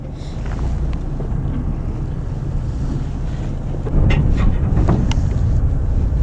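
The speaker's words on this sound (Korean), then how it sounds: "자, 이제 바람 불어가지고 줄이 좀 날릴 것 같네요." Wind buffets a microphone on a fishing boat at sea near an island, producing a loud, constant low roar that swells stronger partway through, with faint clicks and rattles on deck.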